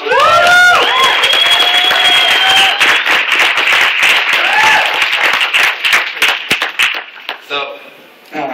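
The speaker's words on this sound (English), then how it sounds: "Mr. Jordan Kraft, give him a round of applause." Audience bursts into loud, sustained applause and cheering for a speaker at a 2013 event, with whistles early on, then the clapping thins into scattered claps and fades out.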